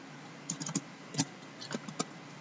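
Computer keyboard keys tapped while writing code, a few quick clusters of clicks close and fairly quiet, with brief pauses between bursts and no voices.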